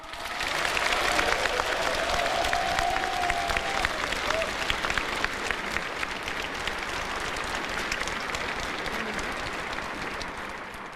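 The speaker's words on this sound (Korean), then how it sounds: "힘찬 박수를 부탁드립니다." A hall audience applauds a speech with sustained, dense clapping that swells early and then holds steady before slowly thinning toward the end.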